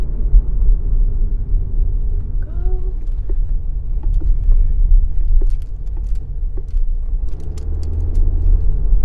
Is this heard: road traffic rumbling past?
yes